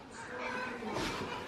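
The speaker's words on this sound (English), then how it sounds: "Gosh, them chickens are loud." Chickens clucking loudly at an Ohio farmhouse coop and yard, a dense continuous squawking and clucking chorus filling the whole moment close by.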